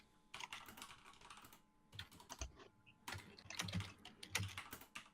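Fingers type on a computer keyboard in irregular bursts of quiet, close clicking and tapping, with short pauses between flurries and no talking.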